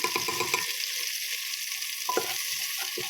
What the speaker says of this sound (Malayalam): എന്നിട്ട് നന്നായി ഇളക്കി കൊടുക്കണം